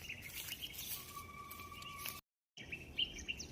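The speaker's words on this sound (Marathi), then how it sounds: "पक्ष्यांचा किती छान आवाज येते." Faint bird chirps and calls sound in a quiet outdoor setting, with a thin whistled note and light rustling, briefly cut to silence near the end.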